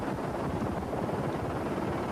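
A helicopter follows a rally car across the desert during the 1993 Paris-Dakar Rally, its rotor making a steady, loud, chopping drone with wind noise and no voices.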